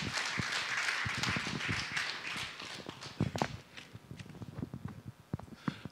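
A church audience at a Korean prayer-meeting event claps, starting as a fairly full round of applause and thinning into scattered individual claps toward the end.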